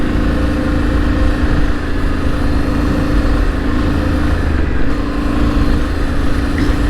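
A 2025 Yamaha Ténéré 700 motorcycle rides across soft sand on a large sand island, its steady engine drone rumbling continuously close by amid wind noise.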